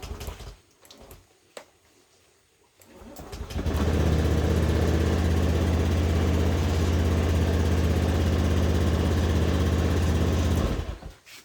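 A Honda Beat FI motorcycle engine starts after a few clicks and rattles, then idles steadily and loudly up close for several seconds before shutting off.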